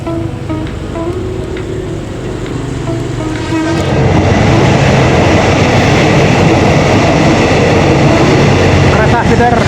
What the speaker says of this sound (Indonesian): Kereta feeder menuju stasiun kereta cepat Padalarang